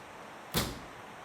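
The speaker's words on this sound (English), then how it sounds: "Just close the door." A single door pushed shut indoors, giving one short dull thud with a brief broadband knock, fairly close, against a quiet room background with no talk.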